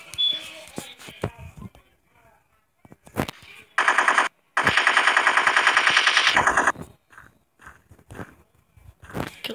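Rapid automatic AK rifle fire in a shooting video game, two loud sustained bursts with a short gap between them, framed by scattered single shots and clicks before and after.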